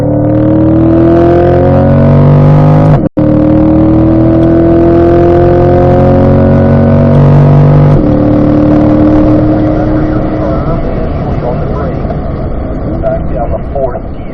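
A race car engine on a track revs loud and close, its pitch climbing steadily through the gears with a brief drop at each upshift before it winds up again.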